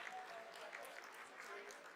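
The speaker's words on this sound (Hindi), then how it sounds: "आप तालियों के गड़गड़ाहट से सुन सकते हैं" Applause and cheering fill ISRO mission control during the Chandrayaan-3 lunar landing's vertical descent phase, a steady, dense wash of clapping that holds evenly throughout.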